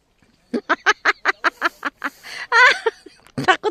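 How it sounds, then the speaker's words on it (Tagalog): Ducks quacking in a rapid, evenly spaced run of loud, close calls, followed by a longer drawn-out honk and a couple more quacks at the end. "Ayan pa yung mga pato, mga duck."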